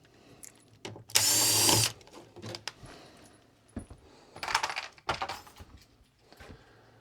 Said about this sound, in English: Take these screws out that hold the filter in now